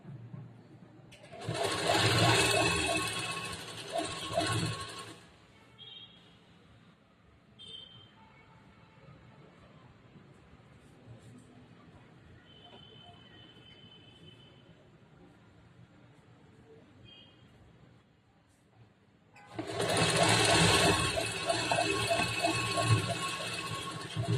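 A sewing machine stitching a blouse runs in two loud steady bursts of about four seconds each, at the start and end, with quiet handling of fabric and faint small noises between them.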